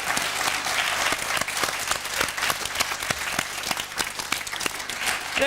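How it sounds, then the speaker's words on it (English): A studio audience at a television show applauds steadily throughout, dense overlapping claps forming a continuous loud roar with no voices breaking through. "A round of applause for that"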